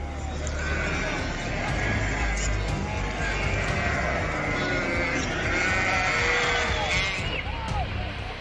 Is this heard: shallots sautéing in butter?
no